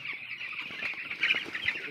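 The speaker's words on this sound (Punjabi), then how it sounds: "ਆਪਾਂ ਖੜੇ ਆਂਗੇ ਮੁਰਗੀ ਫਾਰਮ ਤੇ" Chickens on a poultry farm cluck and squawk in a dense, continuous chorus, close and fairly loud, with no voices.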